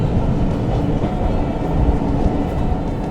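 Steady, loud train running noise heard from the footplate of a steam locomotive on the North Yorkshire Moors Railway heading to Whitby, a continuous low rumble and rattle with no break.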